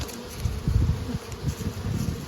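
A swarm of honey bees buzzes close by in a dense, continuous drone, with low rumbling bumps from handling the hive frames mixed in.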